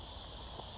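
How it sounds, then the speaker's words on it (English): Cicadas drone outdoors as a dense, continuous high buzzing chorus, faint and steady over a soft natural background. "the cicadas are in full choir"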